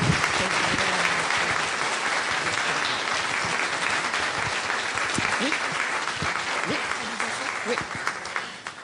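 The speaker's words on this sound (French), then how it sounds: "je vous demande de l'applaudir chaleureusement" Warm audience applause at a participatory democracy conference in Montreal, dense continuous clapping that holds steady and then gradually thins out toward the end.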